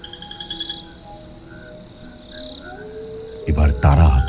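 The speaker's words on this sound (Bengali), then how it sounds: "চারিদিকে ঝিঝি পোকার ডাক আর শিয়ালের ডাক।" Crickets chirping in a forest at night, thin sustained insect tones and pulsing trills, with a rising call like a jackal and a loud burst of sound near the end.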